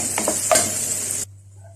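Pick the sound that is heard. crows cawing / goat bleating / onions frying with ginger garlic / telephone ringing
onions frying with ginger garlic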